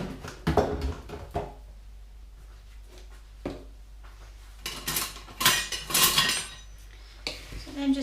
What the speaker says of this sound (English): I'm just going to mix that.